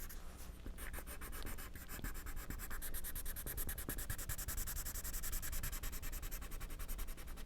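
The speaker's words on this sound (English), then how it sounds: "I'm sort of scrubbing that edge of the yellow ochre." Yellow ochre colored pencil scrubbing back and forth on paper, a soft, fast, rhythmic scratchy rubbing that continues steadily and fairly faint, with no talking.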